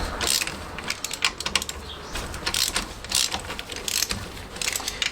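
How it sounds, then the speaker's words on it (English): Close, loud ratchet clicking in bursts as 19 mm bolts are slackened on the rear brakes of a classic Fiat 500, with rapid repeated pawl ticks and short pauses between strokes. "we're going to take our ratchet, these are 19s, and we're going to first of all just slacken these off."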